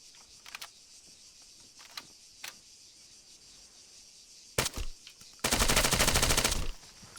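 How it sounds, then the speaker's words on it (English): Gunfire in an Arma ACM medical training scenario: a few sharp isolated shots, then a short burst, and finally a loud sustained automatic volley lasting over a second, heard alone with no talk. "Now let's see if we can still shoot this guy and simulate"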